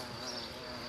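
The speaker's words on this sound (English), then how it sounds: "keep it away from wasp nests" Wasps around a nest make a steady, dense buzz that drones on evenly without pause, close and fairly loud, with no voices.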